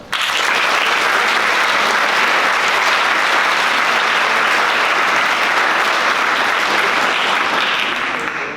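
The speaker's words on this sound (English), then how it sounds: "please give a nice round of applause" Audience applauding at a conference closing ceremony, a loud, dense burst of clapping that starts abruptly and holds steady for several seconds before tapering slightly at the end.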